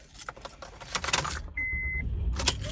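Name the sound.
car keys and car being started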